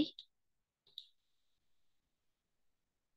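A computer mouse is clicked during image-processing work on a computer: a quick crisp double click, then a single click about a second later, followed by near silence.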